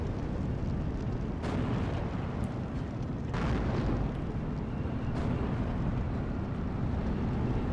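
Steel Division 2 artillery firing and shells exploding near a hilltop at Slutsk, a steady rumbling din punctuated by three broad blasts spaced roughly two seconds apart, loud and continuous.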